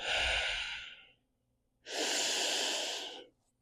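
Slow, deep breaths taken while resting during a core-strength yoga flow: a long exhale, a pause, then another long airy breath, close and clear with no talking.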